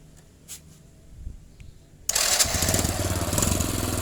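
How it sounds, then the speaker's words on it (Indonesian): A Honda Supra Fit motorcycle, after a starter relay repair, cranks on its electric starter and the engine catches, settling into a steady, loud idle after a couple of seconds of near silence with faint clicks. "sekarang kita akan coba starter motor ini apakah bisa hidup"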